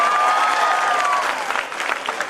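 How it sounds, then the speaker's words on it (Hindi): An audience at a 2019 kavi sammelan poetry gathering in Kushalgarh claps loudly in a dense burst of applause that thins out slightly toward the end. "जरा बजाओ जरा जोरदार तालियां"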